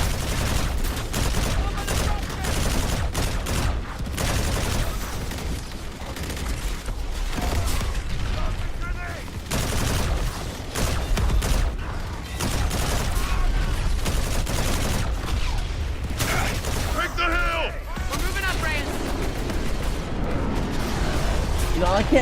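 Dense, continuous gunfire and explosions fill a Call of Duty Black Sky level, with rattling automatic bursts layered over rumbling battle noise while voices talk along underneath.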